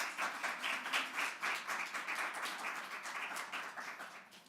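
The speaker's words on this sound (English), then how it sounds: "I want to give you a round of applause" Steady, dense applause from an audience at the 2022 Gold Humanism Honor Society induction ceremony, heard faint and distant, with a continuous rolling texture of many hands clapping.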